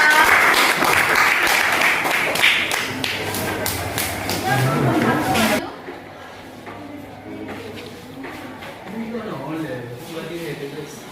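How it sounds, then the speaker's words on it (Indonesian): A classroom of students applauds group 4 during a lesson, a dense burst of clapping for about five seconds that then cuts off, leaving quiet room noise and faint voices. "beri aplaus untuk kelompok 4"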